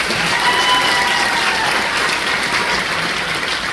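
Audience applause after a student band's piece at a Pittsburg Community Band and PCMS 7th and 8th grade bands concert, a dense, steady clapping from a full crowd, loud and sustained throughout with no talk over it.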